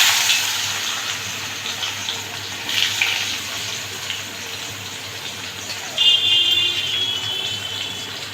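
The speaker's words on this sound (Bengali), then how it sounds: "এবার আমি এতে পেঁয়াজ কুচিটা দিয়ে দিচ্ছি।" Chopped onion hits hot oil already seasoned with cumin seeds in a Bengali kitchen, giving a steady hiss of frying with brief louder spurts of sizzle close to the microphone.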